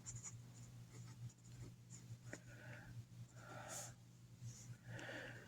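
A pen scratches across paper up close in short strokes and bursts, faint and intermittent over a steady low hum and soft breathing.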